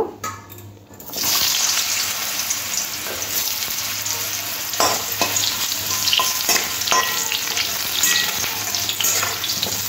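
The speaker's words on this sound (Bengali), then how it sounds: "এবার এই তেলের মধ্যে কয়েকটা আলু লাল করে ভেজে নেব।" Potatoes drop into hot oil in a home kitchen and a loud, dense sizzle starts after a brief quieter moment. It holds steady with scattered crackles and utensil scrapes, close up and with no speech.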